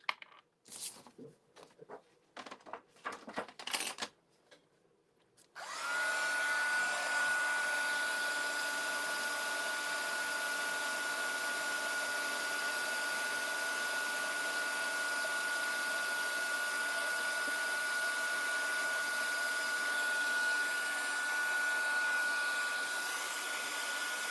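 A handheld embossing heat tool warming embossing powder blows a steady, even whoosh with a faint high whine for nearly twenty seconds, after a few seconds of light handling clicks and rustles.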